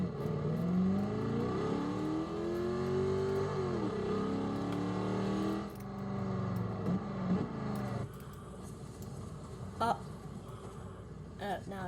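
A car engine in Garry's Mod during a storm chase revs with long sweeping pitch rises and falls, loud and continuous, while voices talk over it before the noise thins into rougher bursts.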